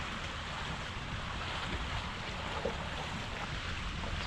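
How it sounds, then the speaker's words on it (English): Steady wind gusting over a creek arm of Lake Lanier, a constant broad rush with buffeting across the microphone and no voices. "It's really windy"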